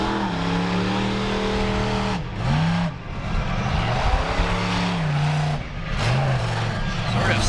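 A monster truck's engine roars and revs hard in a freestyle run at a 4-Wheel Jamboree, rising and falling through several loud pulls with short gaps, close and powerful, with an announcer talking over it.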